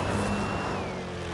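A Hot Wheels Demo Derby monster truck boost engine from a video game gives a steady, loud mechanical roar with a faintly shifting whine, heard alone over a brief stretch.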